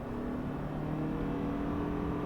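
A 2022 Toyota Camry Hybrid XSE in sport mode is floored from inside the cabin, giving a fairly quiet, steady engine and motor hum that climbs gently in pitch, with no talking.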